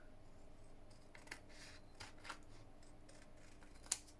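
Scissors trimming paper for a 6x6 paper craft project, a few faint, separate snips in a quiet room, with the last cut the sharpest.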